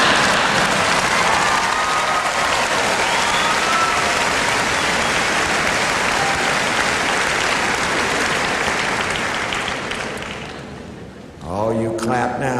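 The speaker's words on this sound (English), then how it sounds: "You clap now" Large commencement audience at the University of Maine clapping loudly and steadily for about eleven seconds, a dense sustained roar of applause that tapers off before a voice resumes speaking.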